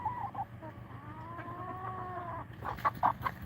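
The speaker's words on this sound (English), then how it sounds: "we already had chickens in this coop right here" Chickens cluck softly in a coop, with low murmuring calls and a few sharper clucks near the end over faint background noise.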